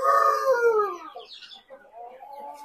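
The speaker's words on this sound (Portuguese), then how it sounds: "o frango pintado tá começando a cantar agora" A young speckled rooster gives a drawn-out, wavering crow near a farm pen, followed by softer clucking and fowl calls; the crow is close and fairly loud.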